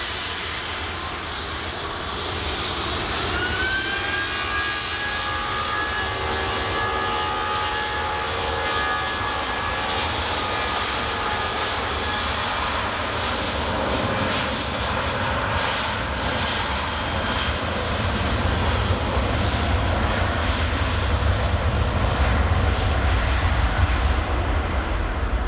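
An EasyJet jet airliner moves along the ground at Glasgow Airport with a loud, continuous engine roar. A high whine glides through it, and the roar swells toward the end.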